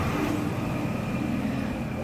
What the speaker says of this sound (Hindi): गाड़ी की आवाज़ ना बोलने ही नहीं दे रही है